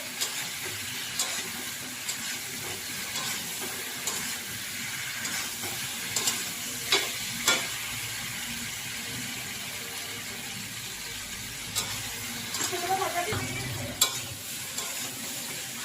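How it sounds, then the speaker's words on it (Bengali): Potatoes and taro stirred and fried in spices in a pan, a steady close sizzle with scraping stir strokes and occasional clinks throughout, no talking. "এর মধ্যে আলু আর আমি ওই কচুটা ভেজে রেখেছিলাম মশলার মধ্যে দিয়ে দিলাম, দিয়ে একটুখানি কষবো"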